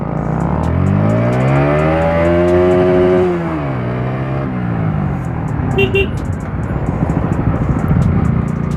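A Bajaj Pulsar 150 motorcycle engine revs hard to full RPM close by, its pitch climbing, holding, then dropping back to a rough idle, with brief voices in the background.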